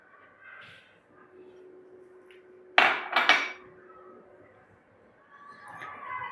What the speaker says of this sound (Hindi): बेसन, रवा और घी को हमको अच्छे से मिक्स करना है पहले